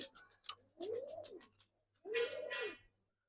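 A pigeon gives two distinct cooing calls, each a rising-and-falling throaty coo about a second long, close and clear against near silence with a faint low hum.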